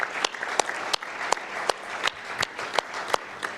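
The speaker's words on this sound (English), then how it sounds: "So I ask you for an applause to their memory." Audience applause in memory of deceased members at a gathering of the Sovereign Order of St. John of Jerusalem, a steady mid-distance clapping with sharp individual claps standing out, continuous for several seconds without speech.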